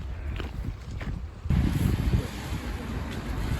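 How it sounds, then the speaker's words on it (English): Strong winter wind in Bergen buffets the microphone in loud, rumbling gusts that surge suddenly partway through, with a roaring, blustery texture throughout. "it was way too windy"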